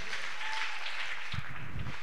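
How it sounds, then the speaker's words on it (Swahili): A church congregation claps for Jesus during a worship service, a dense and steady patter of many hands that fills the room without pause. "Pigia Yesu Bwana makofi."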